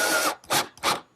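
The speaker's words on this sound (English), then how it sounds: "Now I'll just secure them with the screws." Screws being driven into wooden carousel table parts with a power tool, three loud bursts of whirring drive separated by short pauses, close and alone.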